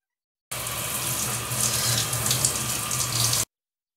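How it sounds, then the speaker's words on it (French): Steady running water gushes from a tap for about three seconds while afro hair is wetted, a close, even hiss that starts and stops abruptly. "Je commence par me mouiller les cheveux."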